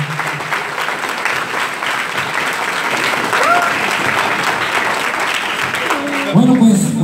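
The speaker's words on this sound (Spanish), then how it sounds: "Les quiero pedir un fuerte aplauso una vez más hoy para Luis y Mari." Loud applause from wedding guests, a dense continuous clapping that fills the room for several seconds, with a few voices and whoops rising near the end.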